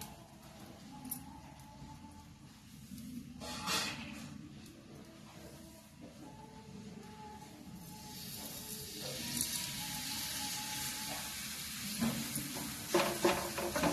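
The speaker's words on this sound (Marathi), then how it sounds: "आपण थोडंसं तेल याला शिंपडायचं आणि आता पोळी टाकायची." Puran poli flatbread laid into a little oil on a hot pan, a soft sizzle that builds and brightens, with occasional clicks and light handling noises.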